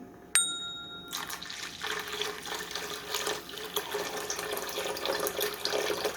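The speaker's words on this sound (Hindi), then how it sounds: "अब हम इसमें पानी डालेंगे।" Water is poured into a pot of lentils for Pakistani daal. A sharp metallic ding comes first, then a continuous splashing pour that rises slightly in level and runs to the end, close and fairly quiet.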